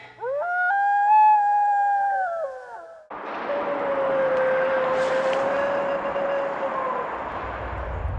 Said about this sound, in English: It could possibly be a wolf howl.